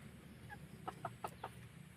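Thai Benjarong-colored bantam chickens clucking in a mixed-breed flock: a handful of soft, quick clucks in a short burst over a faint, steady background hum.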